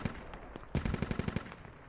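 Rapid automatic gunfire in the tactical shooter Squad: a fast burst of sharp, evenly spaced shots, close and loud, after a few scattered single cracks.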